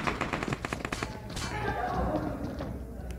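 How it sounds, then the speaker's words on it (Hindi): Rapid gunfire bursts in the PUBG battle royale game crackle in quick repeated pops through the first half, then fade into a busier mixed din with a voice talking over it throughout. "नोवो पे इस समय टीम नंबर 9 की तरफ से फायरिंग हो रही है।"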